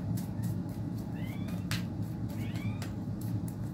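A cat meows a few times, short rising cries heard over a steady background hum.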